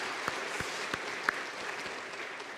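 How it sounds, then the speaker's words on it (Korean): A church congregation applauds after a baptism and confirmation ceremony at a Sunday afternoon service, a steady wash of clapping at moderate level with a few sharper claps standing out. "큰 박수 보내주시기 바랍니다."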